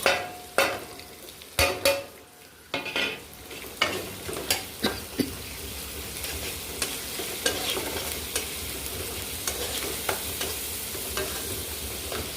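Green chilli paste, hot chilli powder and turmeric frying in a pan for a chicken curry, with a steady sizzle and a run of loud, sharp spoon scrapes and knocks against the metal that thin out toward the end.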